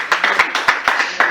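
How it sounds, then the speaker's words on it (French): A live audience at a women's rights conference claps in a brief burst of applause, with about eight distinct, evenly spaced claps in just over a second. "Applaudissez pour lui s'il vous plaît."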